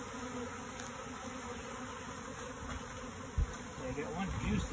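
A dense, steady buzzing of many bees close by around a hive frame after a swarm capture, a constant droning hum with a few soft knocks and rustles near the end.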